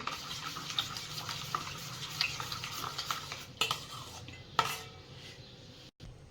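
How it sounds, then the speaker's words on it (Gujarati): Gram flour being stirred and mixed with a spoonful of oil in a bowl for spinach-mint sev, steady scraping and stirring with a few sharp spoon clinks against the dish, close and alone. "આપણે આવી રીતે એક ડોકલી તેલ નાખીશું પછી મિક્સ કરીશું"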